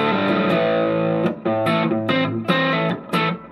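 A Godin Telecaster electric guitar on its neck pickup, run through a Spark amp, plays a short phrase of distorted, sustained chords and notes, loud and close with choppy pauses between strums.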